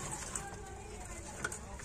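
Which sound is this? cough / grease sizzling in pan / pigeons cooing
pigeons cooing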